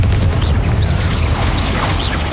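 The Confringo fire-blast spell in Hogwarts Legacy goes off as a heavy, rumbling boom that roars continuously with crackling, whooshing bursts layered over it.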